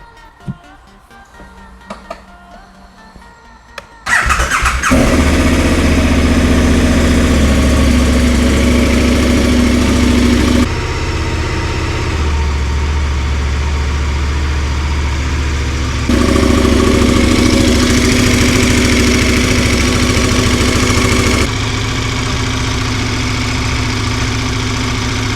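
A KTM 1290 Super Adventure R with a modified exhaust cranks and catches after a few seconds of quiet clicking, then settles into a loud, steady idle that rises and falls slightly in level for the remaining twenty seconds.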